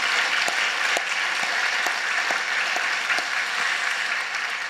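A church congregation applauds a praise dance team during a Holy Week prayer service, with dense, steady clapping filling the room for the whole stretch.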